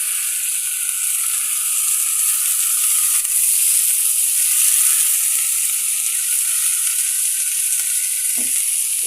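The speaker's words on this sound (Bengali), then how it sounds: "এবারে একটু নাড়াচাড়া করে নেব।" Food being stirred in a frying pan after salt goes in, with a constant loud sizzle and hiss throughout, occasional soft scrapes, and a brief knock near the end.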